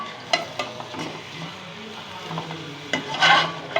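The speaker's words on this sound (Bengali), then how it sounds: "এখন দিয়ে দিব টমেটো কুচি।" Chopped tomato, peeled and deseeded, drops into spicy desi chicken curry frying in a pan, giving a steady close sizzle with soft stirring scrapes and a brighter hiss burst near the end.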